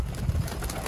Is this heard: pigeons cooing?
yes